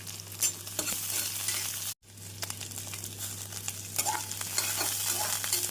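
Onion, green chilli and curry leaves fry in hot oil with mustard seeds and cumin for a beans carrot poriyal: a close, crackling sizzle with spatula stirs, cut by a brief silence partway through.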